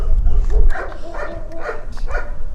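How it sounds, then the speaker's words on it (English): Several dogs bark in short bursts, somewhat distant, over a low rumbling wind noise. "I've set a lot of dogs off. They're all barking at me"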